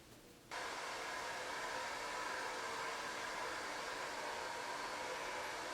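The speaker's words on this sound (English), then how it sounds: "So let me just go blow dry it and we can see what it looks like dry." A hair dryer switches on and blows hair with a constant loud airy hiss, steady and close, with no pauses or talking.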